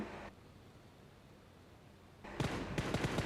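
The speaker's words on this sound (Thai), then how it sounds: "ผมยิงล่อออกมาครับผม" In the video game PUBG Mobile, a gun fires a rapid burst of sharp shots meant as a lure, loud and close after a quiet stretch of near silence.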